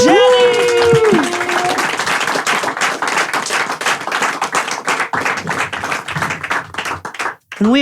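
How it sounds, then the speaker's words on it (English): A standing audience claps for Jenny at a live show, dense, rapid applause building after a brief rising tone at the start, steady and close throughout until a short drop near the end. "Everybody, stand up, standing ovation, round of applause for Jenny"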